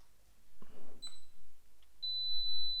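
Fuji X100VI self-timer on a tabletop focus-stacking setup sends out a few quiet short electronic blips, then one sustained high steady beep near the end, with faint handling noises in between.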